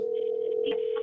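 Outgoing cell phone call ringing back through the handset: a steady electronic ring tone holding for about a second, clear and up close with no talk over it.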